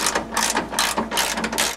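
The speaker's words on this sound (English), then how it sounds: "So now we'll go ahead and tighten these down." A ratchet tightens 13 mm bolts on a 2001 Dodge Caravan Sport during radiator replacement, giving rapid, close clicking in several quick bursts of pawl strokes.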